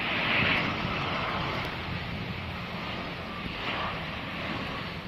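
A Swiss passenger airliner at London Heathrow Airport gives a steady, loud broadband jet roar lasting throughout, with a faint hiss riding over the rumble and no talking.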